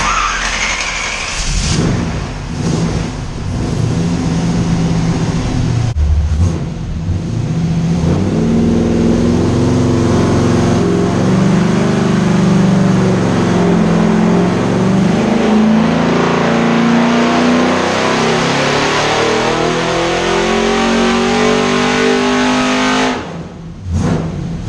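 Car engine fitted with 1 3/4 inch primary headers on a dyno run, revving steadily upward in a loud, continuous sweep that climbs in pitch for about twenty seconds before cutting off, with no talk.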